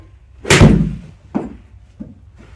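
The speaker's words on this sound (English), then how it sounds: "This is 9-iron. If you're going to be an over-the-top person, so arms out like this, we're going to hit this shot." A golf ball struck hard with a 9-iron: one loud, sharp impact whose echo decays, then two fainter thuds a moment later, with no talk.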